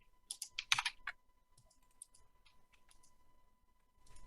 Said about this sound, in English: as I type in here